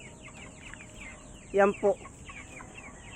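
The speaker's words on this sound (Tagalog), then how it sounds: "itong mga manok ko gutom na" Hungry farm chickens cluck twice in quick succession near the listener, short throaty calls over faint background hiss and distant birdsong.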